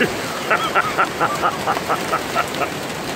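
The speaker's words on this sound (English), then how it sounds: "it is pouring." Heavy pouring rain, a dense continuous hiss of drops close by, with faint voices underneath.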